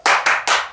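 Children at a Sunday school service clap in unison, three sharp, close claps in a quick, even rhythm, each ringing briefly in the room.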